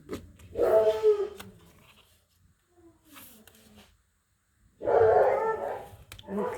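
A dog, one of two kept as pets, gives two loud barks or yelps about four seconds apart with a quiet gap between them; someone speaks in the clip.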